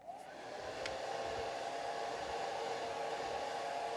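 A hair dryer blows on wet watercolor paint, a steady close whooshing roar that rises within the first half second and holds evenly throughout, with no voices.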